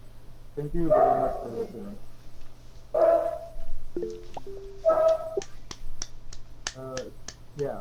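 A pet dog barks and yips several times in short bursts during a quiet indoor presentation, with a person speaking between and over the barks.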